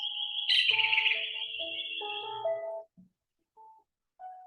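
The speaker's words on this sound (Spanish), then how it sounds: "Estoy con canto de pajaritos." Small birds sing in a burst of high, bright chirps and whistled trills, close and alone against silence, trailing off into a few short separate calls.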